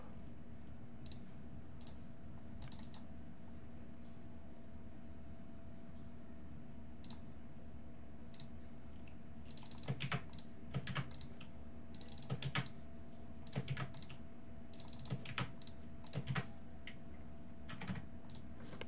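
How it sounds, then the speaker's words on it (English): Clattering typing on a loud, low-quality computer keyboard during web development work, sparse clicks at first, then dense bursts of rapid keystrokes in the second half over steady background hum. "my keyboard is too loud, and I apologize since the keyboard is not really good"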